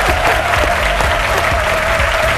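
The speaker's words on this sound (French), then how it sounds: "Son nom, c'est Benson Diakité, qu'on applaudit très fort" A studio audience on a live daytime TV talk show applauds a guest as he is introduced, a loud, dense and steady clapping that fills the room without a break.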